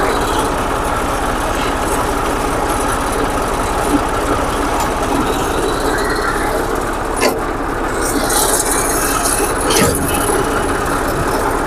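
Massey Ferguson 241 tractor with its side gearbox running, a steady, loud mechanical drone with continuous engine rumble throughout and a few brief clanks, no talking.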